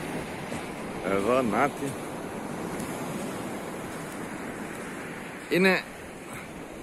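Low water of the Neda river meets waves at the sandy beach of Giannitsochori, a steady wash of surf and wind filling the scene, while someone speaks two brief phrases over it.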